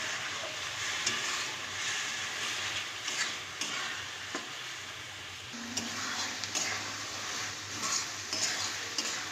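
Onions stir-fried in a pan with a little water, continuous soft sizzling broken by repeated scraping strokes of a spoon over several seconds, fairly quiet and close.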